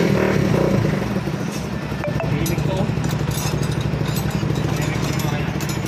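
A Bajaj NS160 FI motorcycle engine with hard-starting trouble sputters and clatters roughly, running unevenly as if struggling to catch, with talk faintly underneath.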